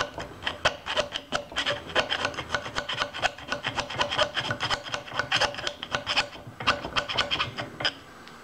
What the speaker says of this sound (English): Let me get this one little burr off of here.